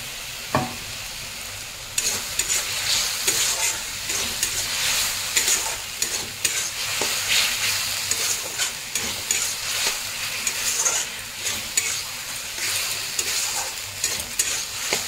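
Steady frying sizzle with repeated scraping and stirring of a spatula in a pan of fried potatoes, chilli powder and salt, continuous and close, no voices.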